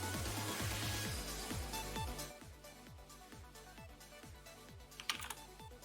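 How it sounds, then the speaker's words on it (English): Rapid, fairly quiet keystrokes on a computer keyboard patter in an uneven but steady run, each click distinct, with a couple of louder taps near the end. "So I'm going to be typing it here"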